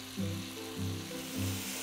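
Food fries in a pan with a steady, close sizzle and a soft, even hiss. No one speaks.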